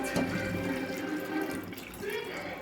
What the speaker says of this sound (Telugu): హీట్ వాటర్ అయితే పోసుకుంటున్నానండి చల్లటి వాటర్ కాదండి కాగబెట్టిన వాటర్